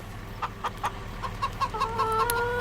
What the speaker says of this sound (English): Our chickens are doing great as well.